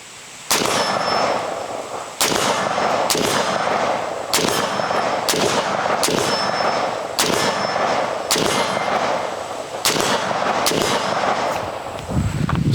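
Rifle shots from a PSA JAKL fired outdoors at a 60-yard range, about ten sharp loud reports at a steady pace, each with a short ringing tail and faint metallic clangs from steel targets.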